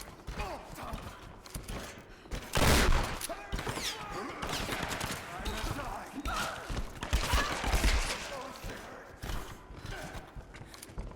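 Shotgun blasts and gunfire in the Tomb Raider (2013) video game, loud booming shots in an irregular burst amid busy game action and clatter, with some voices mixed in.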